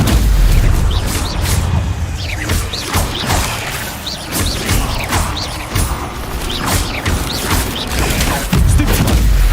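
Spellcasting combat in the Hogwarts Legacy video game, including an Incendio fire spell, sends loud booming blasts, crashes and whooshing bursts in quick succession, with low rumbling impacts throughout.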